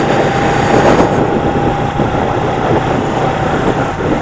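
A café-style motorcycle engine drones steadily while riding, a loud, even hum with a faint whine above it and no talking.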